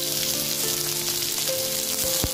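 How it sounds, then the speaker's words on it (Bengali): Onion sizzles in hot mustard oil with whole bay leaf, cardamom, cinnamon and cloves, a dense, loud crackling hiss filling the space close up without pause, with a brief knock near the end. "এবার আমি পেঁয়াজটা অ্যাড করে দিচ্ছি।"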